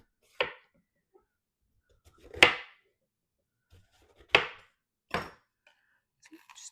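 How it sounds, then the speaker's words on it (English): A kitchen knife chops bell peppers and a large onion on a board in four or five separate, sharp cuts with pauses between them, close and fairly quiet. "we're going to cut up 3 bell peppers and a large onion"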